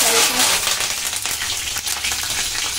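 Curry leaves and green chillies sizzle loudly in hot oil while a prawn curry is made, a close, crackling fry with bright spitting pops and a faint stirring clatter.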